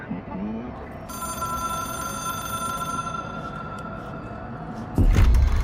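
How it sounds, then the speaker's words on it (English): Old telephone ringing in the video game Control, a sustained bright electronic trill lasting several seconds over a low background rumble, then cut off by a sudden loud thump. "It is a phone."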